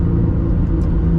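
A BMW 135i cruises with a low, constant engine rumble and road noise from inside the cabin, steady throughout without any sharp revving.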